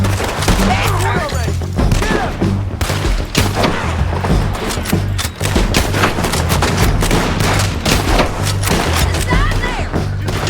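Rapid gunfire fills a video game shootout, dense overlapping shots and bursts with booming impacts, loud and continuous, while players shout over it.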